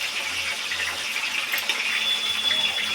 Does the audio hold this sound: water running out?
yes